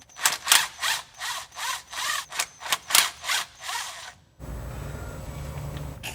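Transmission filter bolts are backed out with a T20 Torx socket, giving a series of about ten rhythmic ratcheting or scraping strokes close by, followed by a steady low background hum.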